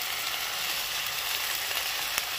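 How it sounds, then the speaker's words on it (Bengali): Poppy seed paste with ginger, cumin and green chilli sautés in a pan with a steady, close, dense sizzle that holds evenly throughout, with one faint click near the end. "আর যে আদা জিরেটা আর কাঁচা লঙ্কা ওটাও দিয়ে দেবো, একসাথে কষাবো"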